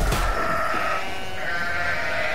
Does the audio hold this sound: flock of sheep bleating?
yes